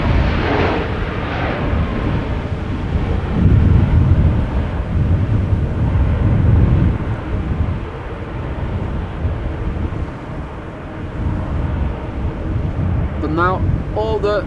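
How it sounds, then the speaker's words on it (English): A Lufthansa airliner landing at Amsterdam Schiphol Airport on a breezy day after Storm Isha: a steady, loud jet roar heavily mixed with gusting wind buffeting the microphone, with a voice talking over it. "Meanwhile, Lufthansa over here landing."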